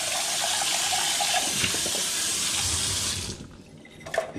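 Tap water runs steadily into a sink while bowls are rinsed, a close hissing stream with faint clinks, then cuts off near the end.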